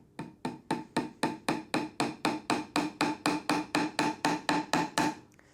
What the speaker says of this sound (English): I'm going to tack in my first nail